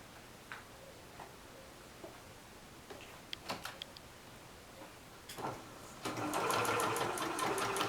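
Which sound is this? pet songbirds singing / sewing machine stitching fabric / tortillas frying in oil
sewing machine stitching fabric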